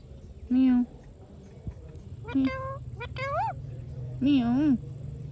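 A talking parrot imitates a cat's meow in three or four short, rising and falling calls, close and loud, with low background hum and a sharp tap between calls.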